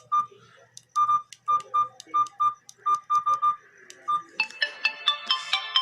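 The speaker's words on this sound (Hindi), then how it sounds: "ये इसकी रिंगटोन्स है।" Ringtones on a Q Mobile Razar Z gold handset play one after another, first a repeated short chiming beep pattern, then a brighter rising melodic tone, clear and close with no talk.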